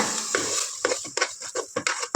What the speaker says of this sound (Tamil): உப்பு சேர்த்து கொடுத்துட்டு ஒரு டைம் நல்லா கிண்டி கொடுத்துக்கோங்க.